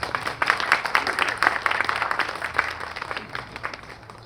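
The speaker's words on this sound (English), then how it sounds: "Another round of applause for our speakers." Audience applause at an outdoor Memorial Day remembrance ceremony in Lawndale, honoring the speakers: a crowd clapping steadily for about four seconds with scattered individual claps, moderately loud, with no talk over it.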